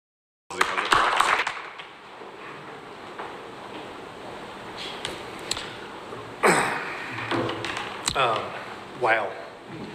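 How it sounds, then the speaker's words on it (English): Applause rises for the chairman, Charles Murphy, at a WKCTC special announcement: a sudden dense burst of clapping that fades into a lower, steady patter, with swells of fresh clapping later on, mixed with rustling and voices. "Please give him a round of applause."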